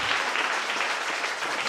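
A church congregation at a Pointe-Noire opening service breaks into dense, continuous clapping, loud and even throughout a brief burst.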